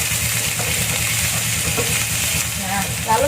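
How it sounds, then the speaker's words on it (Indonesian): Spices fry with lime leaves and bay leaves while being stirred for Jambi-style coconut rice, a loud, continuous sizzle close by with soft scraping throughout. "jadi kita aduk lagi"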